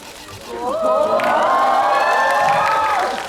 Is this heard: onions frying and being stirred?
no